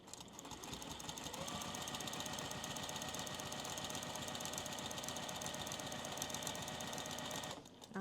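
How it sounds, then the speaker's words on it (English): Sewing machine doing free-motion quilting along a paper template, a close, steady rapid stitching hum that holds for several seconds before stopping near the end. "now I can continue stitching the line between the stockings"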